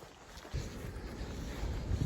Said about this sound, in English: it's already getting windy, which is a signifier that a storm could be ahead